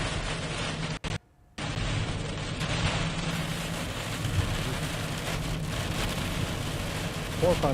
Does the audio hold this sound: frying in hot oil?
no